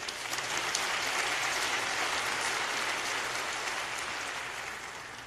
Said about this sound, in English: please give a round of applause to all the other speakers, please